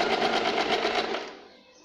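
A sewing machine running a loose basting stitch on a blouse, a fast steady whirring chatter close by that slows and fades out at the end.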